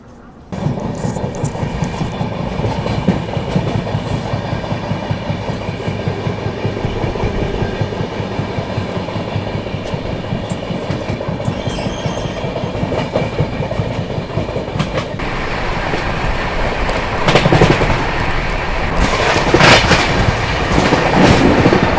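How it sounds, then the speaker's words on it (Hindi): Aboard the Rajdhani Express as it overtakes the Mahakaushal Express on a parallel track, a loud continuous rumble of wheels with steady clickety-clack and rattling that grows louder and harsher toward the end, with occasional squeals. "Finally overtaking Mahakaushal express."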